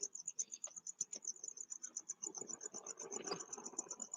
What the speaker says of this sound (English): Crickets are going like crazy.